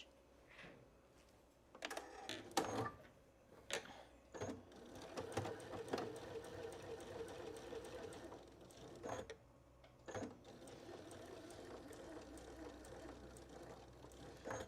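Sewing machine stitching around a fabric flower for a tote bag with a longer stitch setting, a near mechanical whirring and clatter in stop-start runs with brief pauses between.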